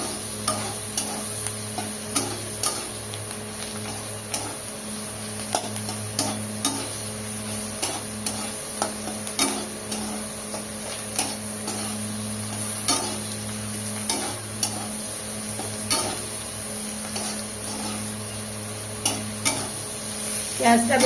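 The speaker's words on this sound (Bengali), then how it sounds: "পেঁয়াজটা বেশ ভালো করে ভাজা হয়ে গেছে" Onions frying in a pan with salt and turmeric, heard as a continuous close sizzle under a steady hum, with regular scraping stir strokes every second or so throughout.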